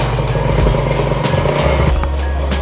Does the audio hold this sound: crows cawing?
no